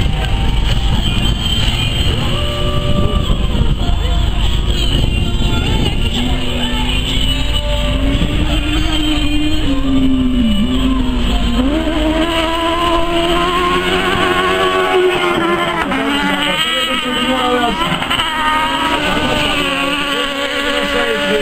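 Two race cars circulate on a track, one with a faulty wheel that isn't pulling, giving a continuous buzzing engine whine whose pitch wavers and sweeps up and down over a long stretch.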